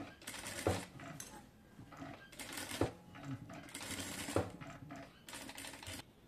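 A sewing machine stitches a boat neck in fabric with rapid mechanical clatter, running in bursts that stop and restart as the cloth is turned, close and fairly quiet.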